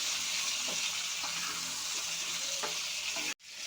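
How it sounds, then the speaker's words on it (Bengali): Diced potato and papaya fry in hot oil in a pan, a steady close hiss with a few soft stirring scrapes, ending in an abrupt cut. "আলু পেঁপেটা ভালোভাবে ভেজে নেব।"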